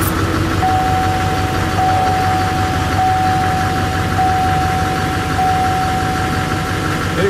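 A steady GMC Sierra 2500HD diesel truck engine idles close by with a constant low rumble and a thin high whine running through, no talking.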